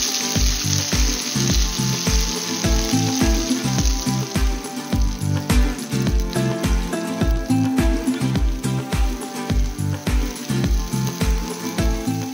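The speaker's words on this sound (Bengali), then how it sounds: "তারপর কড়াইশুঁটির পেস্টটা আস্তে আস্তে ঢেলে দেব।" Green pea paste for koraishutir kochuri poured slowly into hot oil with black cumin in a wok, frying with a loud, continuous sizzle and a rapid, regular scraping rhythm of stirring throughout.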